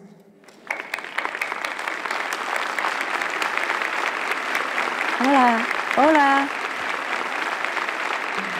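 An audience applauds steadily to welcome a guest of honor at a city gathering in Jalapa, with warm continuous clapping; a person greets them briefly partway through.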